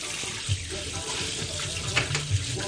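Tap water runs steadily into a sink while rice is washed by hand Japanese style, with a continuous splashing hiss and a few soft knocks of grains and bowl.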